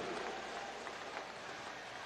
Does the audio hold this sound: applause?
yes